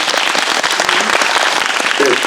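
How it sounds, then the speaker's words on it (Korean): Loud, close applause from a cinema audience at a film screening talk, dense rapid clapping that holds steady with a faint cheer or voice underneath. "여러분 큰 박수 부탁드립니다."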